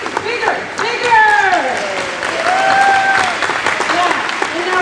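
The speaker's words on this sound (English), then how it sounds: "So give yourself a round of applause" A room of attendees at a community political meeting in Covington, Washington, claps steadily and fairly loudly for several seconds, with a voice calling out over the applause and some cheering mixed in.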